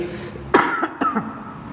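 A man coughs twice in quick succession during a mosque lecture, the coughs close and fairly loud over faint room noise.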